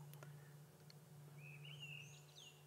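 A curriken thrush sings a few rising, sweeping whistled notes, faint and distant over a steady low hum, with a couple of soft chirps earlier.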